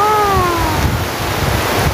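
Strong wind driving heavy rain and spray during a frightening downpour, a loud, continuous rushing wash of water and gusts, with a brief tonal whine fading early on.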